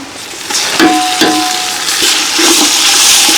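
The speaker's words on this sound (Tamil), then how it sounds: "அடுத்து இஞ்சி பூண்டு பேஸ்ட் சேர்த்துக்கலாங்க" Ginger garlic paste sizzles in a pan with onions, green chillies, cinnamon and fennel, a bright steady frying hiss broken by a few clattering stirs, close and loud with no talking.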